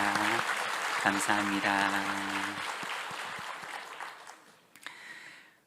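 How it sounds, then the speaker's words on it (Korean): Church congregation applauding its choir in a Korean worship service, a broad wash of clapping with a voice speaking over the start, tapering off toward the end. "우리 찬양대 사랑의 박수로 격려하겠습니다."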